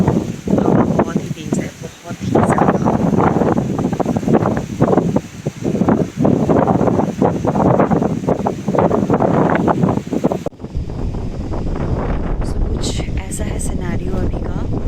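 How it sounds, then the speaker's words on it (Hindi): Strong cyclone wind from Cyclone Amphan roars loudly and continuously against the microphone, buffeting it with gusts while someone talks over it; the roar drops sharply near the end, leaving quieter wind and rain. "हवा बहुत ही तेज़ है, बहुत ही ज़्यादा।"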